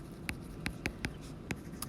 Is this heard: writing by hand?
yes